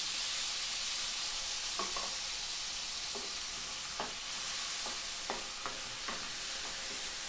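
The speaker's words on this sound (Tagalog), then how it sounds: "Patatas, haluin muna ito" Potatoes frying with onion and garlic in a pan, a constant hissing sizzle with a few sharp scrapes and taps of a spoon stirring through them, close and uninterrupted by voices.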